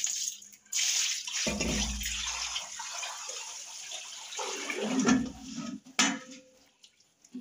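Water poured out in a couple of splashing bursts during a snake rescue, with gurgling and trickling between pours, close and fairly loud against a quieter outdoor background.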